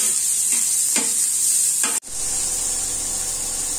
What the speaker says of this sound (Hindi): अब आपको प्याज इसमें डाल देनी है